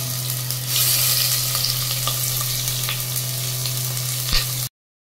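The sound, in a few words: tomato and onion paste frying in a pan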